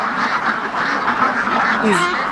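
Free-range ducks on a large duck farm quack in a busy, overlapping chorus close by, with a person talking over the flock.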